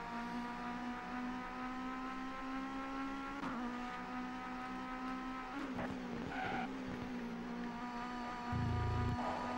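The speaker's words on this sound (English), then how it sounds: "Braking, I always forget about the braking on this. The wheels lock up so easily." Racing cars in the PS1 game TOCA 2 Touring Cars, with a steady engine drone and tyres squealing as the wheels lock under braking, a louder low rumble rising near the end.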